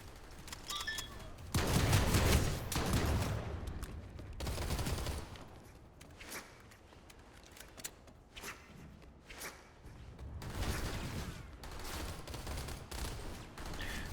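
Heavy assault shotgun fire in the shooter game Planetside 2, used by the TR faction: bursts of loud, rapid blasts, with short pauses and thumps between volleys.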